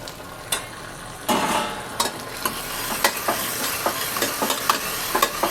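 Potatoes, capsicum and tomatoes sizzle and crackle while stir-fried in a pan, with a steady hiss and repeated sharp clacks of the spatula against the metal, close and alone.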